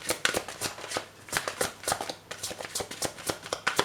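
Tarot cards being shuffled by hand, a quick run of crisp riffling flutters and soft slaps repeating close up with no talk.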